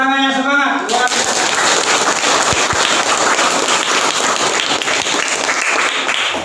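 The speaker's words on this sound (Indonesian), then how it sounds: "Berikan tepuk tangannya semangat." A scout class audience breaks into loud, dense applause after a short tonal opening, with clapping and cheering voices running continuously for several seconds.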